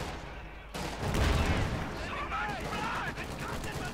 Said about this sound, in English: Panzerfaust going off.